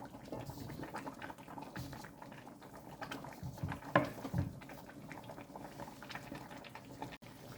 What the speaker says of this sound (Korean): 국물이 넉넉하게 만든 후에 칼제비를 넣어줍니다